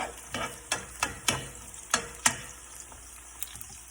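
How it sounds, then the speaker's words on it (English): Onions for walnut tacos frying on a stovetop, with a soft sizzle broken by about eight sharp spoon scrapes and taps against the pan in an uneven rhythm. The sound is close, and no one speaks. "Once your onions start cooking and getting a little brown,"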